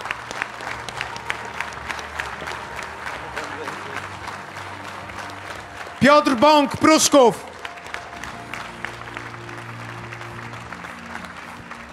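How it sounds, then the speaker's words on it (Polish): Candidates are introduced at a local-government political convention, drawing a short, loud burst of crowd applause mid-clip. A man reads names over a PA before and after it. "Wielkie brawa."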